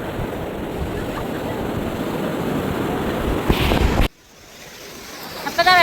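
Sea waves at Cherai beach roll in with a loud, continuous rushing surf and wind noise, ending abruptly into quieter sound with a faint voice.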